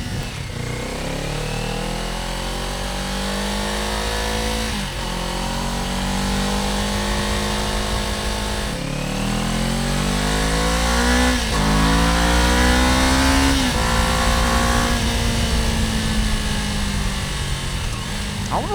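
A Kawasaki Ninja 500 fitted with a Yoshimura exhaust is revved hard several times, engine pitch climbing and dropping in repeated sweeps, loud and close over a constant idle.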